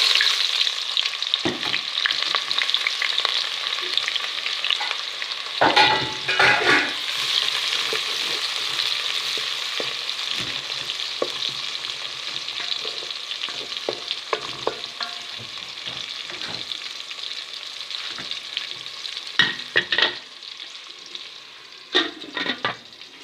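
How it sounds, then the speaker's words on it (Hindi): Onion sizzles and fries in hot oil in a pan, with black cardamom, while it is stirred now and then. A steady hiss carries on throughout, broken by scraping and clattering stirs, with no talk. "अब इसमें डाल देंगे प्याज।"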